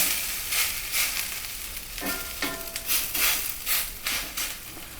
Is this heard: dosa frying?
yes